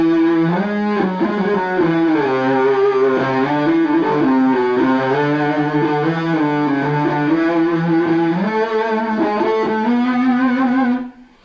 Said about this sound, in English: I was using a phase pedal then